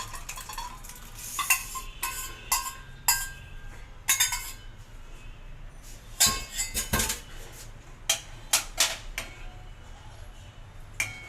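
Payasam mixture of moong dal and jaggery water being stirred with a ladle in a pot, with intermittent metallic clinks and scrapes at irregular intervals, close and moderately loud with no talk.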